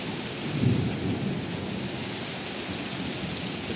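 Heavy rain pours steadily at a temple, a constant dense hiss with a low rumble of thunder swelling briefly early on, then fading back into the downpour, with no voices.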